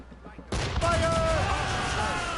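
Ship cannons fire in the Assassin's Creed Rogue video game, a sudden loud blast that opens into a dense rumbling barrage with ringing tones, over a low ambient wash.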